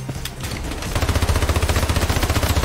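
Rapid gunfire from the video game Hyperbox, a fast, regular burst of loud shots that starts after a short pause and continues steadily to the end.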